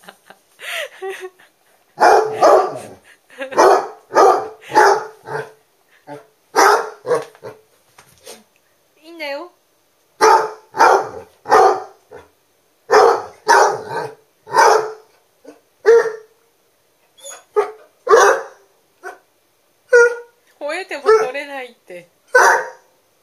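A basset hound barks repeatedly in short bursts, loud and close, with brief pauses between volleys over about twenty seconds.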